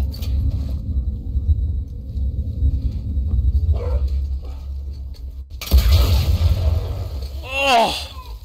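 Dog in The Last of Us Part 2 barking and yipping over a low rumbling game ambience, a few sharp barks and whining yelps late on, with a person talking in between.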